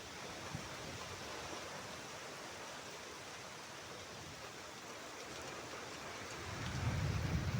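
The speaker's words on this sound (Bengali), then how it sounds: "এখন ঝড়টা একটু হালকা কমেছে, কমে গিয়ে এখন তো বৃষ্টি হচ্ছে।" Steady, even hiss of rain falling after a storm eases, with a low rumble swelling near the end.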